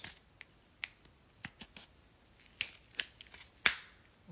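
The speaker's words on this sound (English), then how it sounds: "I have these scissors right here. I'm just gonna open them with this." Scissors cut open a heavily wrapped package with a quiet, irregular series of sharp snips and clicks, each one short and isolated against near silence.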